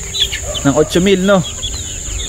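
Roosters at a Philippine gamefowl farm, including broodstags, crow and cluck close by, a clear crow rising over steady farmyard ambience while a person speaks briefly.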